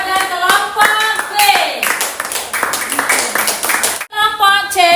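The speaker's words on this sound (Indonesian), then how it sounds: "beri tepuk tangan kepada kelompok B" Clapping for group B in a classroom presentation, steady and fairly loud hand claps under overlapping voices and some tonal sounds, briefly dropping out near the end before resuming.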